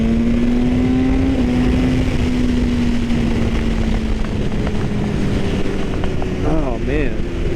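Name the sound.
BMW HP4 motorcycle riding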